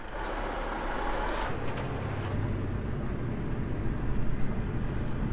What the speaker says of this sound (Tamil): வண்டியை ஸ்டார்ட் பண்ணுறேன்.